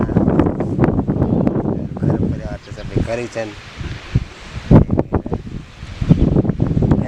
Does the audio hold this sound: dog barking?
no